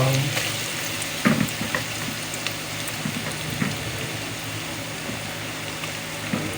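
Ginger and garlic sizzle steadily in a hot frying pan, a continuous crackling hiss with a few louder pops and occasional stirring, with no one talking.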